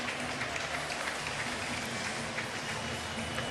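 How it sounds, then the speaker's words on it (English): Scattered applause and steady crowd noise from a baseball stadium as Santana steps up to bat during a New York Mets no-hitter, a continuous dense wash of clapping and murmur at moderate level. "he got a smattering of applause as he came to bat"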